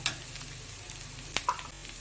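Onions and ginger paste fry with green chillies for a fasha fish curry, giving a close, soft sizzle broken by a few sharp spatter pops and a brief stirring scrape, with no talking.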